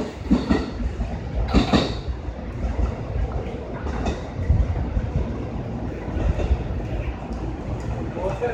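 Train noise rumbles through Atami Station in Japan, with a low rolling hum and occasional clanks, while a Japanese platform announcement speaks over it.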